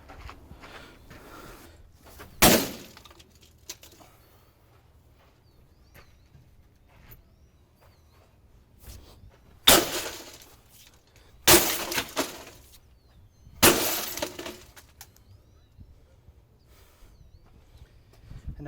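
A printer smashed with an axe in slow motion, glass breaking in four sharp crashes spread across the stretch, each a brief loud shattering burst over a quiet background.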